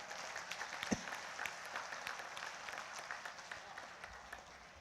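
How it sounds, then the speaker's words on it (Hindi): A large audience applauds at a poetry and spiritual festival gathering, a broad rolling wave of clapping with a few sharper claps standing out, fading slightly toward the end. "दोनों हाथ उठाकर आपका जय घोष होना चाहिए तालियों का इस बात पर।"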